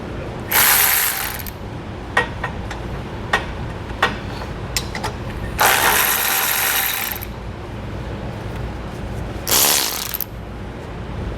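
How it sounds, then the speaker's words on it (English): An 18mm socket on a ratchet wrench works tow hook bolts loose during a base plate installation, giving three longer buzzing ratchet runs separated by sharp, single clicks and taps, close and fairly loud with no talking. "We're going to take an 18mm socket and wrench. And we're going to remove these 2 bolts."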